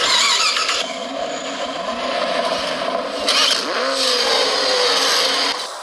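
Race cars roar off the starting line at a fairground racetrack, engines revving loud and continuous with rising pitch sweeps and a scraping, skidding edge.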